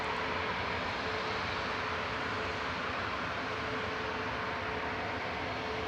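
A Qatar Airways airliner crosses the runway threshold landing at Manchester Airport, a steady broadband jet roar that holds level throughout, fairly loud and continuous with no voices over it.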